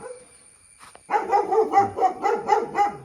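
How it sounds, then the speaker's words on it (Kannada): A dog barks repeatedly in a steady rhythm, close and fairly loud, with several sharp barks following quickly one after another. "ನಾಯಿ ನನಗೆ ಜೋರು ಮಾಡ್ತಾ ಉಂಟು"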